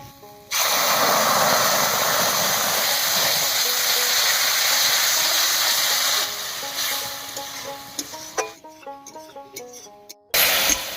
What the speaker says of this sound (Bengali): এবার মশলা ধোয়া জল দিয়ে মশলাটাকে ভালো করে কষিয়ে নিচ্ছি।